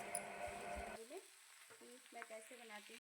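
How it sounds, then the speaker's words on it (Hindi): Vegetables sizzle and crackle as they fry in hot oil in a kitchen pan with stirring, a steady close hiss that cuts off after the first second, leaving quieter scraping and faint intermittent sounds. "यहाँ पे फिर से मैं छौंक दी थी सब्जियाँ अपनी"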